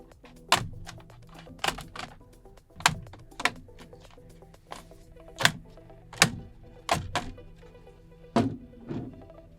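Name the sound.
plastic pry tool separating laptop top case from bottom case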